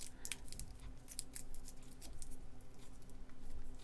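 Aluminium foil crinkles and rustles in a run of quiet, irregular crackles and scrunches as it is wrapped around a clay armature head for a polymer clay figure, close up with steady low background.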